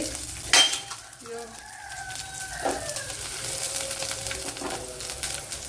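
Garlic, ginger, green chilli and curry leaves fry in a pan for a Kerala-style egg dish, giving a steady crackling sizzle with a few clinks of a utensil stirring, continuous and close.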